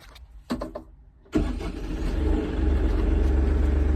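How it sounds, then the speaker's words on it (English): Kioti NS4710 HST tractor engine starting from inside the cab, a few short starter bursts, then the diesel catches with a sudden jump into a steady low idle that slowly builds. "just listen to how quiet this thing is when we start it up"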